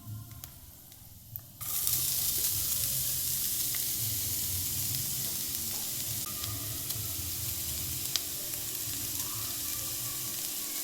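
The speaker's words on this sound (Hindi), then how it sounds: "अब घी डाल के रोस्ट करना है इसको, कैरेट को।" Grated carrots roast in ghee in a pan for gajar halwa, starting with a faint stir before a loud, steady sizzle breaks out and crackles continuously with occasional scraping.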